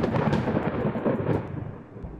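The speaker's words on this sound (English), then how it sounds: "why the fuck was there thunder?" A loud, close rumble of thunder sounds in the video game Dream Daddy, a rolling low boom that swells in bursts and then fades over about two seconds.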